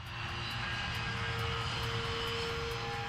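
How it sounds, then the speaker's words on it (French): Fixed-wing airliner engines run at Manchester airport on an August 1985 morning, a steady, loud, continuous drone with a low rumble and a faint whining tone held throughout, no voices. "Les premiers avions de la matinée s'envoleront sous peu."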